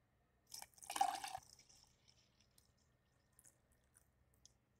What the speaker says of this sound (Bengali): এখন আমি দিয়ে দিব 2 কাপ ঠান্ডা পানি।